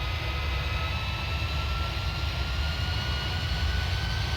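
A fixed-wing airliner's engines roar steadily at high power during a takeoff roll in the flight simulator game FSX, a continuous loud drone with no breaks.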